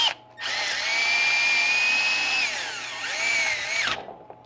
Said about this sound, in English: I do have to drill out a little bit more